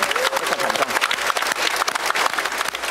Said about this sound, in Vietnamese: một lần nữa một tràng pháo tay thật lớn cho trường Thiên Mẫu của mình nha